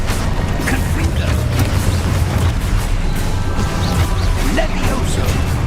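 Fire-spell explosions go off in the Hogwarts Legacy video game, repeated crashing blasts and pops amid continuous loud combat noise and game music.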